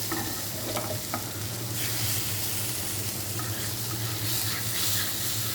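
Ground spice with its peel fries and crackles in a 25-year-old nonstick pan whose handle has come off, a constant close sizzle broken by scraping stirs.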